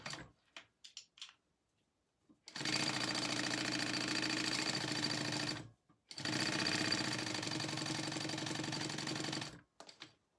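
A sewing machine stitches fabric for a Marilyn wallet at a quarter-inch seam, running in two steady bursts of several seconds with a short pause between, preceded by a few soft handling taps.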